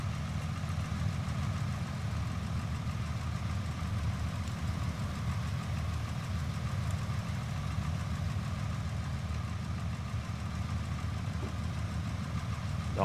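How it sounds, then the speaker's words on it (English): A Cessna's horizontally opposed engine in Microsoft Flight Simulator X idles at a steady, even low drone with a faint knocking pulse, constant throughout. "Oh, I do love the sound of a horizontally opposed engine in the morning"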